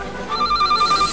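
A telephone rings in an office, a bright electronic bell tone sounding clearly and close with a steady trill, alone and without speech.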